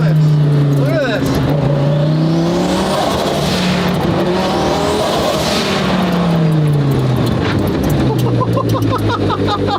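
A loud, high-revving sports car engine roars continuously while driving, pitch rising and falling with gear changes, while people talk over it inside the cabin.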